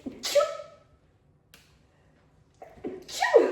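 Two sharp sneezes close to the mic, separated by a couple of seconds of near silence, the second one louder.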